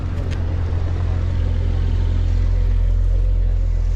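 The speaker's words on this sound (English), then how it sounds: "Cars keep coming." Porsche cars, including 911s and GT3 RS models, arrive at an outdoor Porsche marque-day car show, producing a steady, close, loud low engine rumble that continues throughout with no talk.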